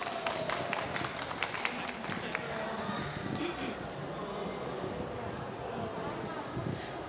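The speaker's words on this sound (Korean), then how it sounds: "우리 박수로 한번 마지막 발표자님 모셔보겠습니다" An audience at an autism talk event applauds to welcome the final speaker, a dense, fairly steady patter of clapping filling the room, with some sharper claps early on.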